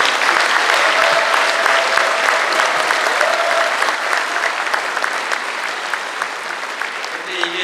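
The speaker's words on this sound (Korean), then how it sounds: "우리 한철수 대장님 일어나서 박수 한번 받으십시오" Sustained applause from a large audience for General Han Cheol-su at a formal speech gathering, a dense steady clatter of clapping that continues throughout and eases slightly toward the end.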